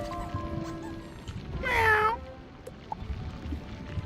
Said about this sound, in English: I know for sure there's a cat right here